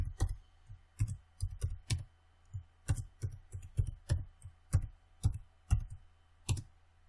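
Mouse clicks while logging out of and back into a Poweed CMS website admin account, a steady run of about twenty light, close clicks in irregular rhythm, no talking.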